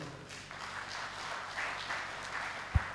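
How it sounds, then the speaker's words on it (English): A summit audience applauds in a steady wash of clapping, moderately loud, with a brief thump near the end. "Round of applause for him."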